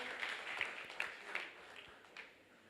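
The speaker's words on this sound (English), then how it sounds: "let's all give him a round of applause" A school debate audience applauds a secondary school's final speaker, giving a faint, fairly distant round of clapping that fades out after a couple of seconds.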